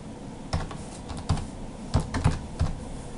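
Computer keyboard typing a username and password, a handful of light, irregular key clicks in short clusters, quiet and close, with no one talking.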